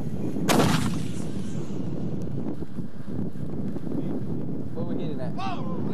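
A mortar fires once with a sharp, heavy boom early on, then the shot dies away into outdoor wind noise by a creek while people talk in the background.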